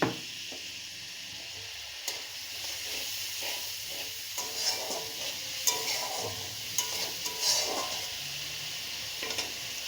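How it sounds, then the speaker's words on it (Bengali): Spice paste sautéing in a pan for a raw banana kofta curry, a continuous close hiss and sizzle broken by scraping, clattering stirs at irregular intervals, with no voices. "একটু কষিয়ে নেব মশলাটা"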